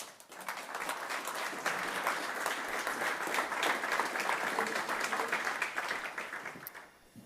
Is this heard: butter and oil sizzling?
no